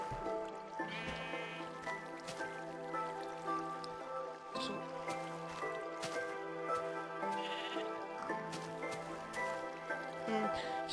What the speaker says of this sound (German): Hey, guck, das Schaf ist draußen